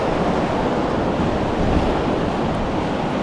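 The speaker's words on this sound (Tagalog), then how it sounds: "Ang lalaki kasi ng alon ngayon oh." Big ocean waves break on a shore in a continuous loud roar, with wind buffeting the microphone and no pauses or talking.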